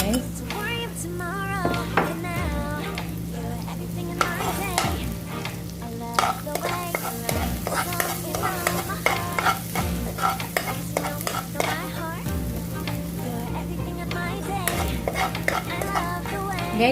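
Garlic frying in oil in a pan, a steady sizzle with repeated stirring scrapes and utensil clinks against the pan, close and continuous, with steady background music underneath.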